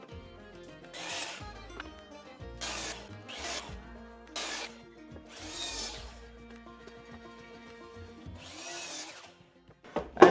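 Power saw making repeated cuts through untreated 2x4 lumber for a patio chair, about five separate bursts of buzzing cutting with short pauses between, near and fairly loud.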